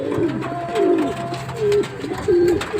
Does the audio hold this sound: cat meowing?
no